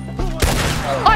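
A gunshot in Red Dead Redemption 2 lands as a sharp broadband crack about midway, followed by a ringing tail and a second smaller report near the end, layered over game music and ambience.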